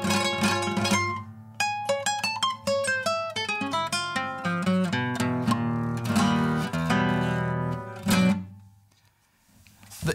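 A solo classical guitar plays an opera interlude, with plucked notes and chords in quick runs, close and clear, ending in a ringing struck chord that fades out.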